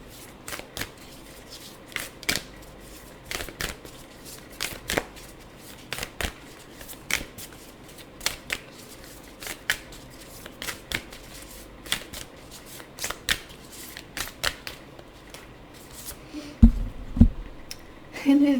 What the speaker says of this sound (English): from this deck, which is very hard to shuffle